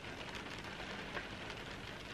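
Rain falls outside in a steady, even hiss, faint and continuous with no other sounds.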